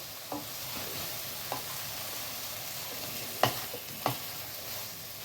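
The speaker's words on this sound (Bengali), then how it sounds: "মিডিয়াম আছে একটু ভালো করে ভাজা ভাজা করতে হবে" Bhindi masala okra sizzling quietly as it stir-fries on medium heat, with a constant soft crackle and a handful of spaced spatula scrapes against the pan, close, with no voices.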